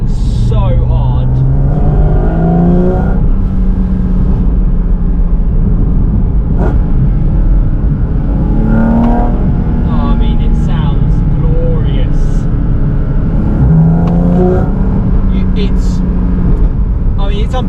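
A car with its sports exhaust open accelerates in repeated pulls, the engine note rising through the gears, loud and heard from inside the cabin with a continuous road rumble beneath.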